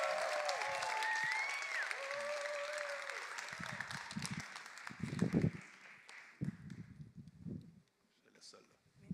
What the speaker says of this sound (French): Est-ce qu'on peut applaudir et accueillir maintenant l'extraordinaire Caroline Rouillard?